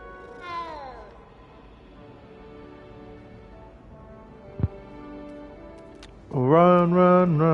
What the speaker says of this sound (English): Kitty cat. I'm not gonna pet you.